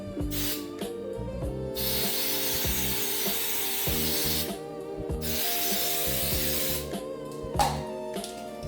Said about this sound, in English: I am just going to use some hairspray to help these stay in place